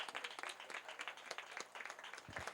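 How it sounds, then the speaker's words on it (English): Applause for guest speakers at the Pelican Gates School graduation and prize giving ceremony, heard as faint, distant clapping from a modest crowd with individual claps audible in an uneven rhythm. "Let's give them all a great big round of applause."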